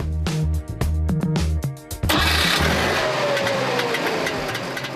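A Trabant's 0.6-liter two-cylinder two-stroke engine cranks with several stuttering bursts, catches after a couple of seconds, then runs on with a buzzy, rattling idle, close and loud.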